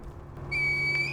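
A reed whistle blown in Sekiro: Shadows Die Twice, sounding one clear, sustained high tone that starts abruptly and holds steadily over a low ambient hum.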